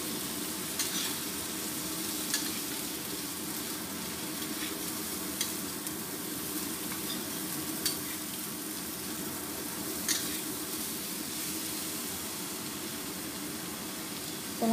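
Meatballs stir-fried in a pan for capcay give a steady close sizzle and frying hiss throughout, broken by occasional faint scrapes of a spatula.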